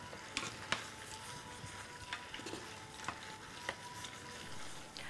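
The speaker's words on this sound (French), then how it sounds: "Lorsqu'on déglace avec un peu de vin, il faut gratter le fond de la sauteuse pour récupérer les sucs de cuisson" A sauté pan deglazed with white wine hisses softly while a utensil scrapes the bottom, with a steady faint sizzle and scattered light clicks and scrapes, close by and quiet, with no talking.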